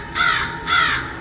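Two harsh, drawn-out crow caws ring out one after the other near a banyan tree at night, loud and clear with no voices.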